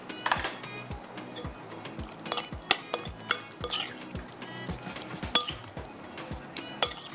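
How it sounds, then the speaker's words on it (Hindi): Spoon clinking repeatedly against a bowl while yogurt is mixed in with a large spoon, a steady series of sharp close taps and scrapes without talk. "चलिए, अब इसको इसी से मिक्स कर लेते हैं बड़े वाले चम्मच के साथ।"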